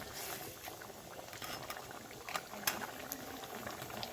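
River fish simmering in a thick curry with Malabar spinach stems, a steady bubbling and sputtering boil that runs unbroken at moderate level, with a few sharper pops and crackles.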